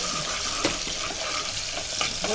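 A large onion sautés in oil in a pan for Kongu-style manathakkali keerai kulambu, giving a steady sizzle with a few sharp spatula scrapes and stirring clicks, close and constant, with no voices.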